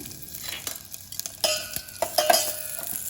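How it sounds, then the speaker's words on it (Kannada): Mustard seeds, cut red chili and curry leaves hit hot oil for a Kannada jeera rasam tempering, giving a close, crackly sizzle with sharp pops and a few metal spoon-on-pan clinks, loudest near the end. "ಈಗ 1 ಟೀ ಸ್ಪೂನ್ ಅಷ್ಟು ಸಾಸಿವೆಯನ್ನು ಹಾಕ್ಕೊಳ್ತೇನೆ. ಇದಕ್ಕೆ ಕಟ್ ಮಾಡಿರೋ ಕೆಂಪು ಮೆಣಸಿನಕಾಯಿ 1, ಹಾಗೆ 4-5 ಕರಿಬೇವಿನ ಎಲೆಗಳನ್ನು ಹಾಕ್ಕೊಳ್ತೇನೆ."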